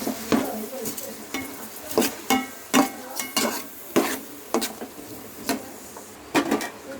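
Fish curry ingredients fry with salt in a pan, soft steady sizzling broken by frequent scraping stirs and clinks of a spoon against the pan.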